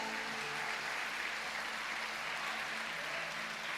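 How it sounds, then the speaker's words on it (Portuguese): A church congregation claps at a worship service, a faint, steady wash of distant applause with no distinct voices. "Você pode aplaudir a Jesus nessa noite."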